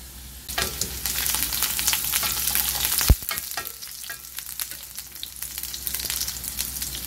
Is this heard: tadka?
yes